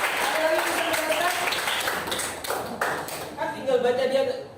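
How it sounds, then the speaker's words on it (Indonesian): Students clapping and applauding in a classroom, a short burst of many hands under ongoing chatter and a teacher's voice. "tepuk tangan dulu sama ini"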